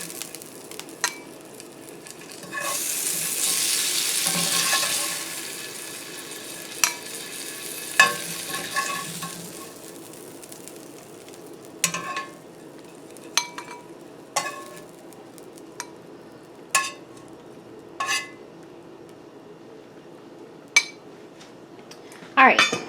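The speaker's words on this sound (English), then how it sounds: "I'm going to go ahead and take it out of the skillet very carefully" Cooked sausage being lifted out of a skillet, with an early burst of sizzling and then a string of sharp metal scrapes and clinks of utensils against the pan, close and clear.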